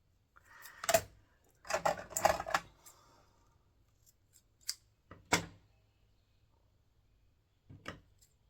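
Scissors snip through a leftover scrap of ribbon or lace in a few quiet, separate clusters of crisp cuts with pauses between, close and alone in a still room.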